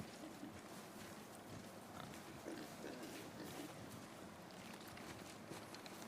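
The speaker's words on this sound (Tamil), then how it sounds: "பண்ணி சவுண்டு கேட்குது." Pig grunts from the video game God of War sound within a busy, windy outdoor game ambience, the animal fairly faint and blended into steady broadband noise throughout.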